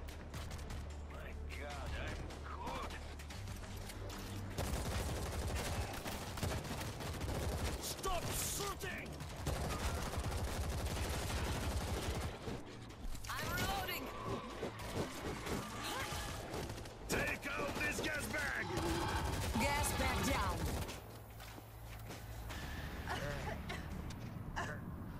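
Gunfire in the zombie shooter World War Z, dense and continuous loud bursts of rapid shots mixed with game effects and occasional talking over the din.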